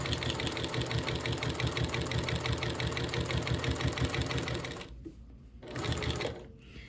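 A sewing machine stitches a fabric mug rug in a fast, steady mechanical whir with regular rhythmic pulses, stopping briefly near the end before a short restart of stitching, no talk.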